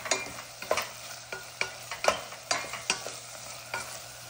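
A spoon stirs tomato with salt and cumin in a pan, making quick, regular scraping strokes over a faint sizzle, about two or three strokes per second, close and moderately loud, with no talking.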